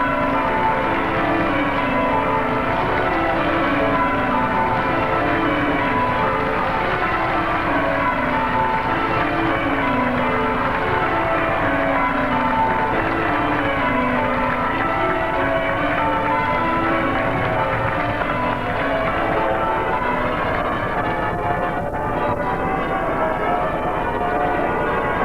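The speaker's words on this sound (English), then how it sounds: "the bells rang out for the historic papal visit." Church bells peal across Sydney for the 1970 papal visit, a dense, continuous wash of overlapping chimes ringing steadily and loudly throughout with no voices.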